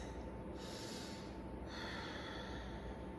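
Slow, deep breathing during a seated yoga hip-opening pose, with a long audible inhale followed by a steady exhale, close and soft against a constant background hiss.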